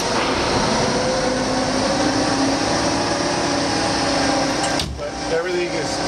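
An airport fire truck engine runs with a loud steady whine and roar throughout, dipping briefly near the end, while a voice talks over it.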